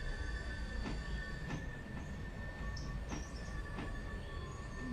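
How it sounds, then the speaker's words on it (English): Train wheel flanges squeal on a tight curve in the Railroader game, thin metallic tones over a steady rolling rumble, with periodic clicks as the wheels pass rail joints. The squeal is moderate and continuous. "I don't remember the flange squealing this much."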